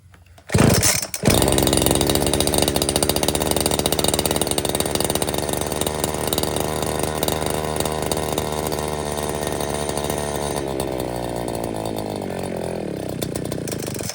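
A Maruyama brush cutter's small two-stroke engine starts abruptly, then idles loud and close with a buzzing, uneven note that wavers and sags toward the end, as if close to stalling.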